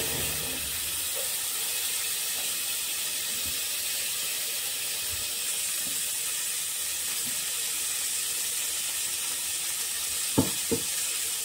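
Steady, bright sizzling of butter frying in a hot pan, with a couple of soft clinks near the end.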